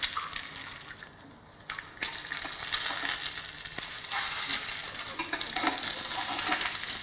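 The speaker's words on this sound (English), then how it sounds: "I hear that panjo sizzling away with those eggs" Eggs frying on a panjo, a steady crackling sizzle with a bright hiss that runs continuously at moderate loudness, with no talk.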